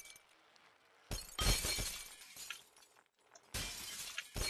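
Repeated glass breaking in the Happy Wheels video game, several loud shattering crashes in a row with brief gaps of quieter debris between them.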